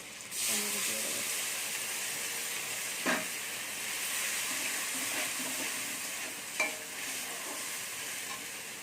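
Chopped tomato and ground spice paste frying in a pan for a Bengali taro-and-goat curry, with a steady close sizzle, a few stirring scrapes and a faint voice in the background.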